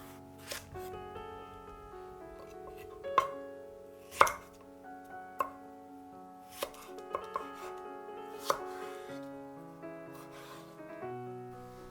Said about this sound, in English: Cut half a cucumber into sticks